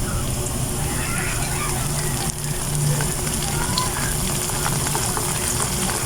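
Banana chips frying in hot oil with a sugar, vinegar and water mixture, a dense, steady crackling sizzle with spattering pops, loud and continuous throughout.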